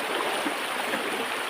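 Strong flood water current rushes past in a steady, loud broadband roar, close and continuous for the whole short moment with no voices over it.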